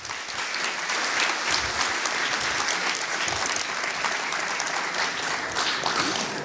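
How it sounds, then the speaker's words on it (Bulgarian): A seated audience at a Bulgarian Linux embedded-devices talk gives a steady round of applause for the speaker, dense even clapping from many hands holding at one level throughout with no one talking over it. "И още веднъж аплодисменти за Леон."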